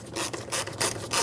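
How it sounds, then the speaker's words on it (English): Small screws being snugged down on a mass air flow sensor of a 2006-2011 Honda Civic, a close, short ratcheting and rubbing mechanical sound in quick repeated strokes, with no talk. "put the two screws back in, bottom them out, and make them snug."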